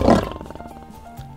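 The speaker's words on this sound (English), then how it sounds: "This animal makes a roaring sound." A single loud, close lion roar bursts out and then trails off into a rumbling, pulsing growl over about a second.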